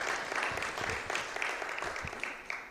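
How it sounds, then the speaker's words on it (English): Audience clapping at a film festival, a soft, fairly distant patter of hands that runs steadily for a few seconds. "yes, you can clap."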